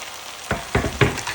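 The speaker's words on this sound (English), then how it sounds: "the salt mackerel pick up, so we're just gonna push that in our pot" Salt mackerel being pushed into a hot pot of oil, a few close, loud bursts of sizzling and scraping at an uneven rhythm over a low background hiss.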